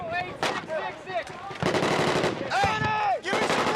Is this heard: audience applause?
no